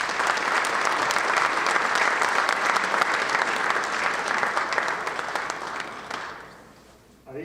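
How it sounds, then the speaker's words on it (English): Applause from employees at a company town hall: dense, steady clapping from a large audience that holds evenly, then fades out near the end. "So let's give you an applause for you for these achievements."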